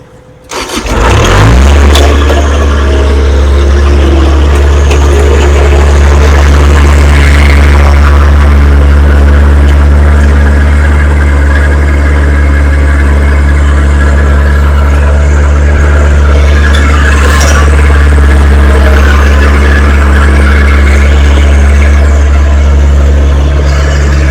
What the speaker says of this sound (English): I love this little fork truck.